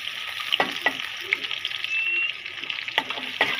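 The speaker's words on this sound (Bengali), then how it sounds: "আম্মু বাগার দেওয়ার জন্য পেঁয়াজ আর রসুন দিয়ে দিল" Chopped onion frying in hot oil to make a tempering, a steady close sizzle with scattered pops and the stir of a spoon against the pan, no talk.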